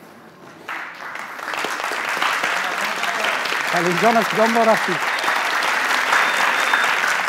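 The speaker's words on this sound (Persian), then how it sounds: "به افتخار دوست خلیل تشویق کنین." Audience at a televised family quiz show breaks into loud, sustained applause that swells and holds, with a voice speaking briefly over the clapping midway.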